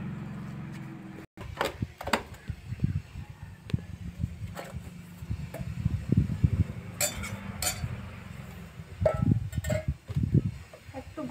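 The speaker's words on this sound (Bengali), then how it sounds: "মাছগুলো পেয়েছি তো আমি ধুয়ে নিচ্ছি" Raw prawns being washed by hand in a metal pot, giving irregular clinks, splashes and scraping taps, close and fairly loud, with no talk.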